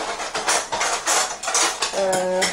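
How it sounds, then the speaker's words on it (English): Pots, pans and cutlery clatter in a string of close metallic knocks and scrapes as a pan of Sri Lankan chicken curry is handled and lifted off the heat, ending in a brief ringing clank. "Now I'm taking out the pan from the heat."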